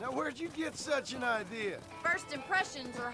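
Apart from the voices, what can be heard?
No everyday noises stand out.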